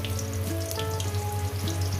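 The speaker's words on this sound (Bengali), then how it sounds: "সব একসঙ্গে লাউ আলু একসঙ্গে ভেজে নেব" Bottle gourd and potato pieces fry together in a pan, giving a steady close sizzle and crackle with faint clinks, no voices.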